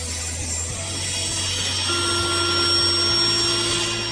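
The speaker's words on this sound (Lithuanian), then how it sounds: "bet taip pat gerai galima naudoti tiesioginį pjūklą, stacionarų diskinį pjūklą." A stationary circular saw cuts wood for steps, running with a steady high mechanical whine and tonal hum under a rising, sustained cutting noise, close and alone without talk.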